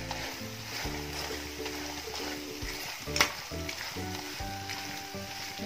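Beef roast with fried onions stirred in a pan for a Kerala-style nadan beef varattiyathu, a steady close sizzle with scraping stir strokes, under a low background hum and one sharp clink near the middle.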